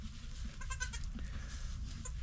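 Baby goat bleating in a few short, wavering cries, close but fairly soft over a low background hum.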